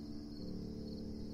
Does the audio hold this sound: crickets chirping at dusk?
yes